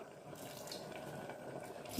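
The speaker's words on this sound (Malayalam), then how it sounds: "കുറച്ചുകൂടി വെള്ളം ചേർക്കാം" Water pours steadily into a pot of sambar for about two seconds, a close, continuous gushing splash.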